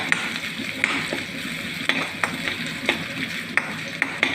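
Tender jackfruit frying and being stirred in a pan for Kerala-style thoron: constant sizzle with regular sharp spatula taps against the pan, close and fairly loud.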